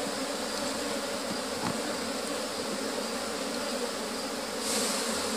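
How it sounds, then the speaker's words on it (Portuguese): A strong, defensive honeybee swarm in a wooden hive box gives off a dense, continuous buzz, steady and close throughout, swelling slightly near the end. "É uma abelha muito agitada"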